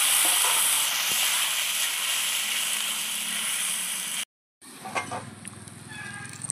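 Spinach hits hot oil and tempering in a pan for a fish and spinach curry, giving a loud, close, hissing sizzle that cuts off briefly and then returns as a softer crackle with a few pops.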